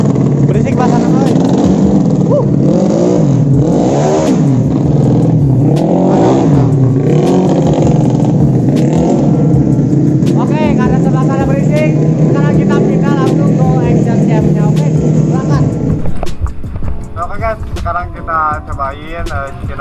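A tuned Honda Beat ESP 125 scooter at a racing circuit: a loud, steady engine drone with rising and falling revs, close to the listener, then it drops away near the end while people talk over it.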